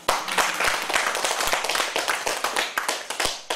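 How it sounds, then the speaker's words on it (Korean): A church congregation at a Sunday service claps together, a dense, close burst of many hands applauding continuously for a few seconds. "박수 한번 치십시오."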